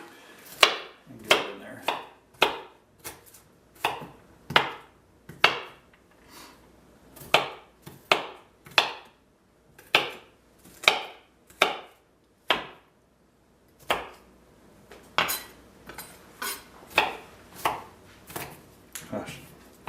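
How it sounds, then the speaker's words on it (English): Vegetables for pad thai being chopped on a cutting board, a long run of sharp knife strikes in uneven bursts with short pauses, close and clear, with a few brief spoken words. "I'll go ahead and chop the rest of this stuff up"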